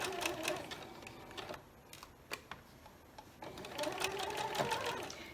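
A sewing machine stitches through quilt fabric in rapid, ticking bursts, pausing briefly in the middle before running again, close and fairly quiet.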